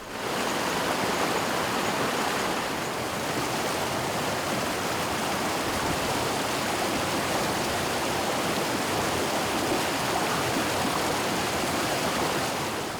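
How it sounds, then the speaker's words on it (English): A foaming stream rushes down a hillside that feeds wet paddy fields, a steady, loud, dense roar of churning water that fills the whole stretch close by, with no voices. "The foaming stream that rushes down the hills"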